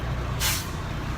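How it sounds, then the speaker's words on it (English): A truck's trailer air brakes being set: one short, loud hiss of released air lasting about a quarter second, close by over a steady low engine rumble, with no talk. "So all you have to do is set your trailer brakes"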